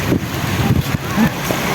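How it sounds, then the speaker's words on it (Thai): Wind buffets the microphone on a white-sand beach at the Sattahip naval base in Chonburi, a loud, steady low rumble with brief gusting swells throughout. "พลมพัดจะค่อยยังชั่วหน่อยดี"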